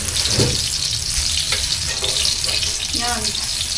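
Food frying in a pan, a steady broadband sizzle that runs through the whole stretch, with faint clinks and short voices over it.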